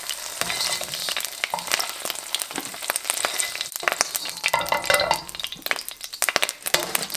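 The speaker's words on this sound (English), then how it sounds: "Now I'm going to fry up the larger chunks in batches." Larger chicken chunks browning in batches in a hot pan for a ginger orange chicken stir fry, a loud, crackling sizzle close by with occasional utensil clinks.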